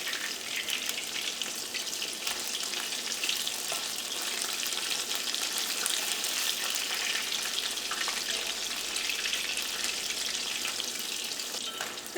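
Pieces of battered fish fry steadily in hot oil for chilli fish, giving a dense, even sizzle and crackle with no pauses and no talking.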